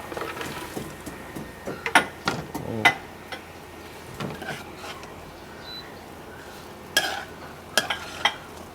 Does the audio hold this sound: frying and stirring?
yes